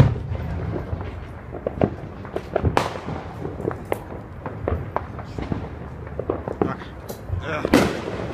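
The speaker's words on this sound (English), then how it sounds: "I'm watching the fireworks outside." Fourth of July fireworks bursting outdoors, a long string of sharp cracks and booms at irregular intervals, some near and loud, others fainter and distant, with occasional talk among them.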